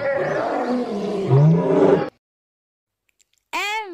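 A lion gives a loud, rumbling roar for about two seconds, then silence, then a second roar begins near the end, alone without talk.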